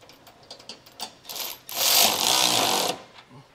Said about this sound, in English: with a 7/8 socket, I'm gonna go ahead and just snug this down